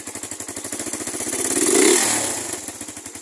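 A Suzuki Raider 150 motorcycle engine, running again after its starter motor was repaired, idles with a rapid, even chugging pulse that swells into a brief rev midway, then settles back to idle.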